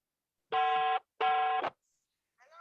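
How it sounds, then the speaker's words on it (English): Two long electronic ringback tones of a phone call, each about half a second, separated by a pause, clean and alone, with a faint voice starting at the end. "It's ringing."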